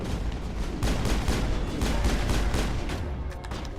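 Sustained gunfire from a sci-fi squad firefight in Mass Effect, with dense overlapping shots and booms rolling continuously at loud volume and no talk over it.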